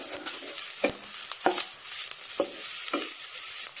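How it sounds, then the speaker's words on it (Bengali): Onions fry in a small amount of oil for a home-style beef bhuna, a steady close sizzle with regular scrapes and clinks of a spatula stirring the pan. "আমার পেঁয়াজ ভাজাটা হয়ে গিয়েছে।"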